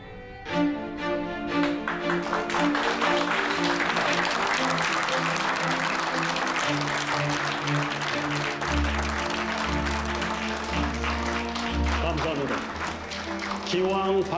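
Guests at a formal gathering applaud after a father announces his daughter's wedding, a warm sustained clapping under swelling orchestral music with low strings entering midway, filling the room for over ten seconds.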